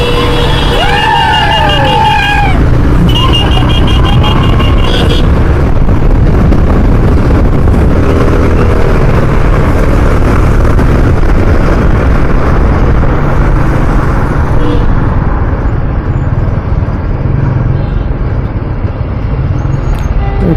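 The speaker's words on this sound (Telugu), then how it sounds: "ఇక్కడ ట్రాఫిక్ జామ్" Dense traffic jammed on a Bengaluru street gives a loud, continuous rumble of idling and creeping engines, with a few horn-like tones in the first seconds over steady road noise.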